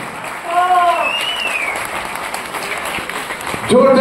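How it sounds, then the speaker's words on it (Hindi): An audience at a film event in a New Delhi hall applauds, a dense, sustained clatter of many hands clapping, with voices speaking briefly near the start and end. "जोरदार ताली"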